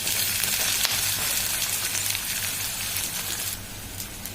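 Chopped onion with green chillies and curry leaves sizzling in hot oil in a pan for moong dal bhaji, a loud, close, continuous frying crackle with a low steady hum underneath.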